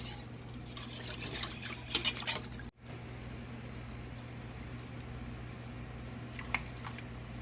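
A spoon works quietly through Swedish meatball sauce with broth and cream, making soft, wet squishing and scraping sounds in a few bursts over a low background hum.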